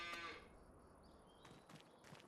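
Cattle on a dairy-focused farm in Farming Simulator 25 give a short, faint moo, followed by soft farmyard clatter and a couple of brief thuds, with no talk.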